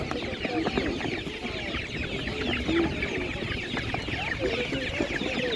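Chickens and young chicks cluck and chirp repeatedly at an outdoor animal market in Nadvirna, a busy overlapping chorus close by, with murmuring voices and market bustle underneath.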